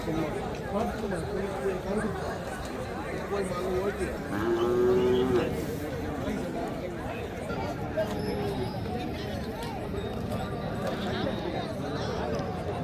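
Cattle low repeatedly at a busy livestock market in Tiruvannamalai during the Karthigai Deepam fair, one long moo standing out clearly near the middle over a steady crowd hubbub and continuous talking.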